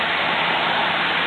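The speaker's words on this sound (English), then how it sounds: "It's raining." Steady rain falling at night, a dense, even wash of hiss filling the whole moment with no pauses or other sounds.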